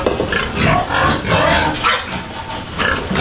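A pig being caught and handled for a Christmas party feast squeals loudly in repeated harsh bursts, close by, with people shouting around it.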